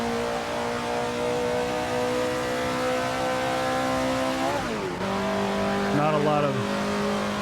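A 1930s Maserati race car once driven by Wilbur Shaw roars around historic Monza in Assetto Corsa, its engine holding a loud steady drone before a quick dip and rise in pitch at a gear change, with a voice talking over it.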